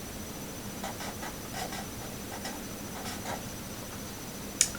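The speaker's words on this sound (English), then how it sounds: "So let's write this as an orbital diagram." A pen scratches out an orbital diagram in quick bursts of faint strokes and taps, ending with a sharp small click.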